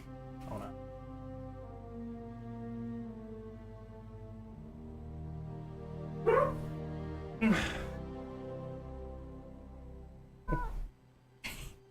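A pet black cat meowing, several distinct meows scattered across the stretch, close and clear over a low background hum.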